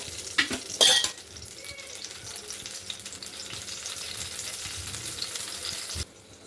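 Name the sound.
chillies frying in oil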